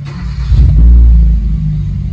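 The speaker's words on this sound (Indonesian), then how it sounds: "Kita starter dulu beberapa detik, nanti cek lagi." A Kia Rio engine cranks and fires up after an oil change, swelling into a loud, close, deep rumble that settles into a steady idle, with no talking.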